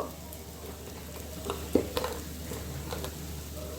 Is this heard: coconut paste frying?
yes